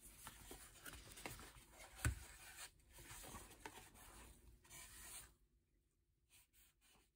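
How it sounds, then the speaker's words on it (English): Unicorn Spit stain is wiped with a cloth along the grain of a wood frame, soft close rubbing strokes that fade to near silence with a few faint touches at the end. "And I'm just wiping in the direction of the grain."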